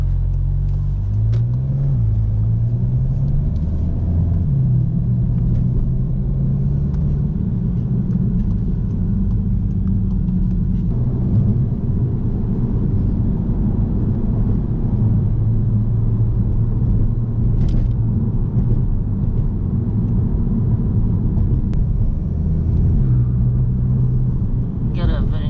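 A 2017 Volkswagen Golf GTI rumbles steadily while driving, a loud, continuous low engine drone with slight shifts in pitch, close and unbroken for the whole stretch.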